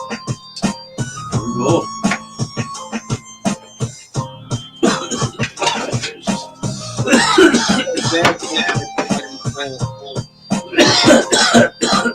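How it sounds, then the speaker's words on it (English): Repeated harsh coughing fits, loud and close, with bursts scattered throughout and heavier clusters toward the middle and end, no talking. "I was coughing"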